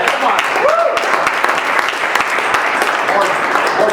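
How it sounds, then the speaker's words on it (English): Audience applause in a room during a sales talk, steady and fairly loud throughout with distinct individual claps, a voice briefly calling out underneath. "that was a weak round of applause"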